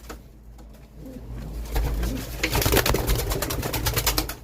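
Flock of young pigeons cooing and flapping into flight, wingbeats swelling from soft near coos to a dense, loud burst of fluttering as the birds take off together.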